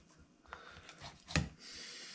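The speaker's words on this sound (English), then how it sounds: "So all I'm going to do next is just slice it lengthways like that." Knife slicing a freshly caught squid lengthways on a board, a soft close scrape ending in a sharp cutting thud, followed by quiet rustling.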